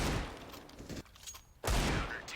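Rapid gunfire from the video game CS:GO on the Overpass map, a loud burst of shots that drops out briefly before another close, heavy volley.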